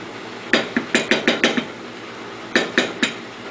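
A spoon knocks and scrapes against a pot of cranberry habanero hot sauce during stirring, giving a quick run of sharp metallic clinks, then a short pause and a few more taps, close and clear.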